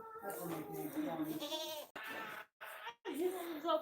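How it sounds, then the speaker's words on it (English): Goats on a family farm bleat in a string of wavering, nasal calls close by, broken by short pauses, with people talking quietly around them. "Hello, goat."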